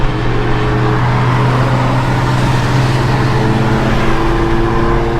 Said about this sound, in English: We basically driving in a fucking snowstorm right now.